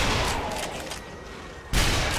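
Headshot gunfire in the zombie shooter Zombie Army Trilogy, a dense burst of shots and blasts that eases off, then a loud fresh volley near the end.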